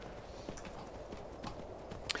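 Horse hooves clip-clop at a walking pace in the video game Skyrim, soft and fairly faint, with an uneven steady rhythm of muffled thuds and a sharper click near the end.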